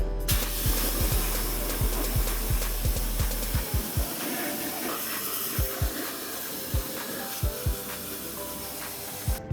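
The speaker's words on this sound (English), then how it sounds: "get your pressure washer gun, start spraying, and instantly regret it" A pressure washer sprays a 1976 Toyota Celica RA24 engine with a loud, steady broadband hiss, punctuated by regular low thumps from the pump as the jet plays across the engine bay.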